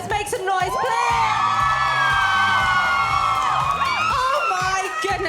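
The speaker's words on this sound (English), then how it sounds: "It's not just any crowd, it is the Lime supporters. Make some noise, please." Lime supporters cheer loudly at a live Minecraft Championship Twitch Rivals event in Rotterdam, a dense, sustained roar of whoops and shouts over steady crowd noise, with talk mixed in.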